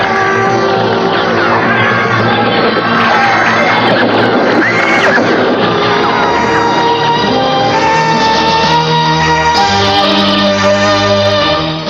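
Horses neighing and galloping in a Javanese historical radio drama battle scene, loud repeated whinnies layered over dense clattering hooves and crowd shouting, continuous and close throughout.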